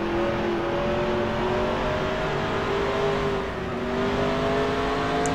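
Simulated stock car engine roaring steadily in NASCAR Racing 2003 at New Hampshire, a sustained loud drone with slight pitch drift and no clear skid or impact as the car spins coming into turn 3.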